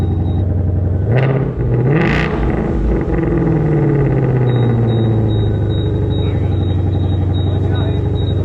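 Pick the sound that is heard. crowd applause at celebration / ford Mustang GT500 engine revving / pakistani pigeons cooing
ford Mustang GT500 engine revving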